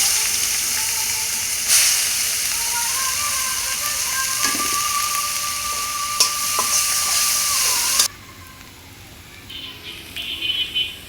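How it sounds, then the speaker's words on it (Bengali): Chopped onions hit hot oil in a pan while cooking a chicken liver dish, giving a loud, steady sizzling hiss for about eight seconds. The hiss then drops away to softer bubbling and a few light clinks. "তেল গরম হয়ে গেছে, পেঁয়াজ কুচি দিয়ে দিব।"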